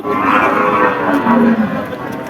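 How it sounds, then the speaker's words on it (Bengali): At a rural cattle market on a rainy day, a large cow lets out one loud, close, drawn-out moo that fades toward the end. "বড় বড় সাইজের গরু আপনাদেরকে দেখাচ্ছি"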